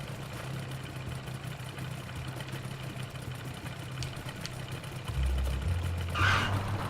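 Airplane engine idling in the flight game Ultrawings, a steady low hum that rises slightly in level toward the end, with no talk.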